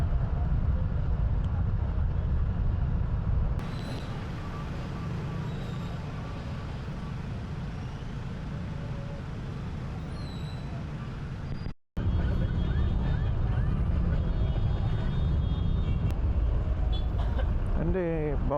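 Street traffic with trucks and buses at a candidates' rally: a steady, heavy low rumble of engines that continues almost unbroken, with a brief cutout about two-thirds of the way through.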